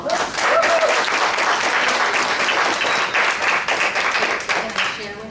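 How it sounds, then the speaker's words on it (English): Sustained audience applause following a guided meditation at a dowsing workshop, dense steady clapping that stays loud throughout and tapers slightly at the end. "Let's give Deb another round of applause."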